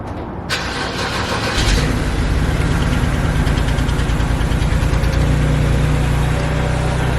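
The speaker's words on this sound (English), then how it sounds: "we're gonna get the exhaust sound on this real quick" A BMW E90 engine with a single-exit Tomei-style exhaust cranks roughly and catches, then settles into a steady, loud exhaust idle with a low rumble, close by and alone.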